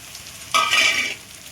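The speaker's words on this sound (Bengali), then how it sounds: "এবার এই যে চিকেনটা যে স্ম্যাশ করে রেখেছিলাম, এটাকে আমি পুরো এবার ফেলে দিচ্ছি এর মধ্যে" Smashed chicken drops into a hot pan with a sudden loud sizzle, stirred for about half a second before the frying fades back to a low hiss.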